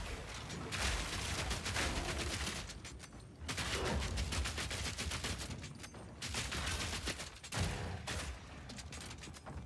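Sustained gunfire in Path of Exile 2 as a Mercenary, dense bursts of shots rolling almost continuously with brief lulls, loud and close throughout.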